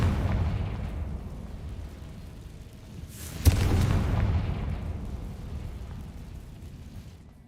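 Confringo fire spell from Hogwarts Legacy detonating as a single loud boom midway, rising out of a steady rumbling game background that lingers afterward.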